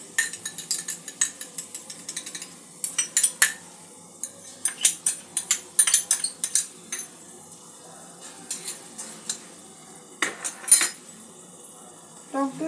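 Whisking sour yogurt with a spoon in a bowl before mixing it into spice paste for an egg gravy, quick bursts of clinking, tapping strokes against the dish, coming in uneven clusters with short pauses, close and fairly quiet.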